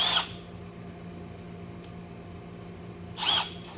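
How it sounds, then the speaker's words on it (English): A power drill bores a pilot hole near a windshield washer reservoir in two short, close whirring bursts, one at the start and one near the end, with a low steady hum between them. "Let's drill a pilot hole"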